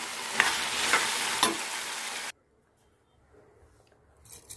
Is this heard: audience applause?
no